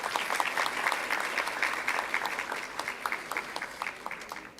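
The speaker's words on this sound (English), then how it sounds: "May we request the audience to please welcome her with a round of applause" Dense, sustained applause from an audience at Shri Ram College of Commerce's annual day prize distribution, welcoming a guest, with many hands clapping steadily and fairly loud throughout.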